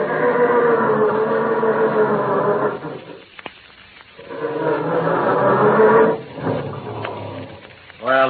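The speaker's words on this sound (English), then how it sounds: "how does your motor sound when you try to start it on these frosty November mornings?" Old car motor cranking slowly and heavily on a frosty November morning, played as a radio sound effect: two long grinding bursts of strained turning over, a pause between them, and a third starting at the very end.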